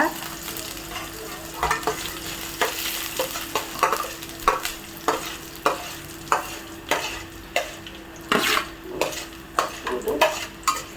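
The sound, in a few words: urad dal and chana dal frying in a pan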